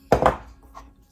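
Knife chopping fresh parsley on a cutting board: two quick solid chops close together, then a fainter third tap, close and alone.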